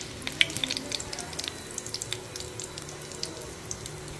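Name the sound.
tempering sizzling in a pan for cucumber chutney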